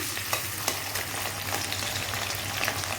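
Potatoes frying in hot oil in a pan for ghugni: a continuous fine sizzle with faint scraping from stirring, moderately loud, no voices.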